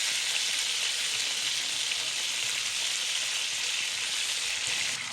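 Pork ribs pan-fry in hot oil in a wok for sweet and sour ribs, giving a dense, steady sizzle that holds evenly throughout with no talk.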